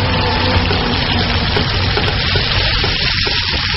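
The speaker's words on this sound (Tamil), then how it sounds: "ஒரு கப்பு தண்ணி சேர்த்துக்கலாம்." A cup of water pours into a cooking pot of spiced gravy in a kitchen, giving a steady rushing gush that stays loud and continuous throughout, with no talk over it.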